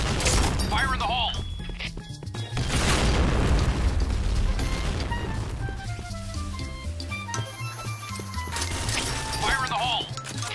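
A grenade explodes in a team shooter game with a loud broadband blast, then another burst follows amid gunfire and clattering effects, all under overlapping players' voices.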